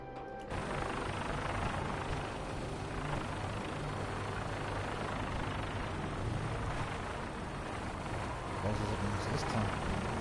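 A Vertibird gunship in Fallout 4 arrives with a steady, loud rotor-and-engine roar that holds for the whole stretch, swelling slightly near the end.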